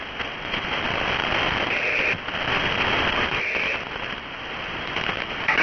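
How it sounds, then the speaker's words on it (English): Rain pours down at night, a dense continuous hiss of drops striking surfaces that stays loud and steady, with faint crackles mixed in and no talking. "Yeah, it's raining here."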